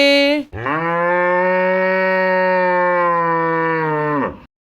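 A single long, loud cow moo rings out close by, a deep drawn-out bellow lasting about four seconds.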